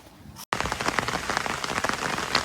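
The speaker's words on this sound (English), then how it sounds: "we've arrived here and so has the rain, and it's quite torrential" Torrential rain pours down in a rainforest, a dense, steady roar of drops pattering close on surfaces, broken by one brief gap of silence before the downpour resumes.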